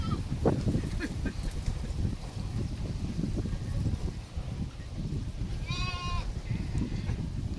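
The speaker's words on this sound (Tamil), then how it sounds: "குட்டி அதிலிருந்து பிரித்து கொஞ்சம் பெரிய குட்டியாக கழிச்சது இது." A young Ettayapuram goat kid on a farm gives a short bleat near the end, heard faintly through steady low background noise and rumble.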